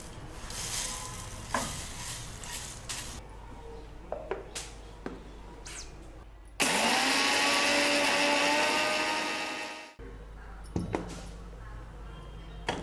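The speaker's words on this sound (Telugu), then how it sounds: "ఇలా మనం మెత్తగా గ్రైండ్ చేసుకోవాలండి" A mixer grinder whirs loudly for a few seconds, grinding roasted curry leaves into a fine powder, then stops abruptly; clatter and kitchen handling noises surround the burst.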